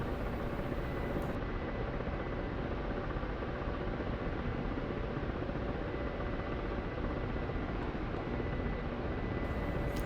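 Continuous broadband rotor and turbine roar of a Black Shark attack helicopter in flight in the DCS combat simulator, steady and loud throughout with no talking.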